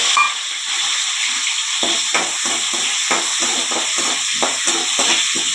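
Whole spices (cinnamon sticks, cloves, fennel seeds and peppercorns) frying in hot oil for a fish curry, with a steady bright sizzle throughout and occasional crackles and stirring scrapes, close and alone with no talk.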